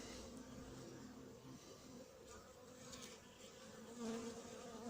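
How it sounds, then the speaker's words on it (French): Black honey bees buzz steadily near a hive beside an anti-hornet tent, a dense, faint swarm drone with no talk. "Je vais aller filmer les abeilles de l'autre côté pour voir les abeilles noires."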